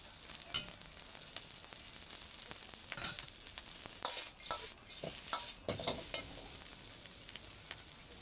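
Fried noodles being stir-fried in an already hot pan at a street food stall, a steady close sizzle broken by repeated scraping stirs and clinks of the utensil against the pan, with no talking.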